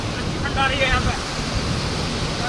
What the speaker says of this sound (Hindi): कितना सुंदर झरना है।